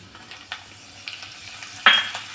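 Mustard seeds, cumin and chopped green chilli hit hot oil for a tempering, a soft crackling sizzle with a few light pops and one sharp spatter near the end.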